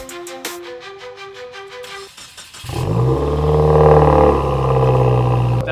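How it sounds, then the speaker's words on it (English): A Subaru WRX fitted with an MBRP axle-back exhaust fires up on a cold start. It first gives a brief starter crank, then bursts into a loud, deep, rumbling idle that stays strong and steady. Earlier, faint tonal sounds play before the start. "That's a pretty loud cold start."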